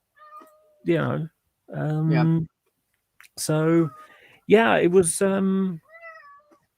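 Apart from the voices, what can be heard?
cat meowing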